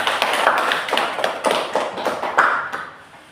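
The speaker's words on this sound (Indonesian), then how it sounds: "Tolong aplaus untuk Ami semuanya" A class applauds a student after her presentation, a short burst of close, uneven hand clapping from a small group that thins out toward the end.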